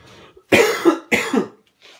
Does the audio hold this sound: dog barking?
no